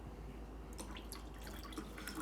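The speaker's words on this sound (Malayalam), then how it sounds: "സ്പ്രൈറ്റ് അവൈലബിൾ ഇല്ല സോ നമ്മൾ ലേശം ഇതേ വെള്ളം ഒഴിക്കുകയാണ്" Plain water is poured into a glass of liquor in place of Sprite. It makes a faint, quiet trickle with small scattered drips, close by.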